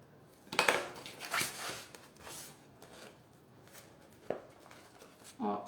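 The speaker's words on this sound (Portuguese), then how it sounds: "agora eu vou cortar esse outro cantinho" Scissors cut a corner of a synthetic leather wallet, giving several close, crisp snips and rasping cuts in short bursts. A few quieter clicks follow.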